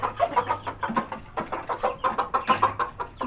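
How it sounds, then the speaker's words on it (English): Rooster and other chickens clucking in a backyard flock, a steady run of short, rhythmic clucks at close range with no talk. "we got the big rooster here too"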